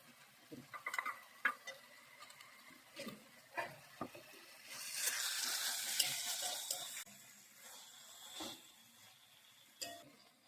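A spoon stirs poppy seed and mustard paste in a pan, then water is poured in, giving scattered scrapes and taps followed by a steady hissing, sizzling wash mid-clip, close and fairly quiet with no talk.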